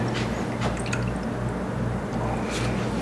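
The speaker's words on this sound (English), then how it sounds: "So let me get just a little bit of water." Water pours into a container in a kitchen where keto apple pie waffles are being made on a griddle, a soft continuous trickle and gurgle over low background hum.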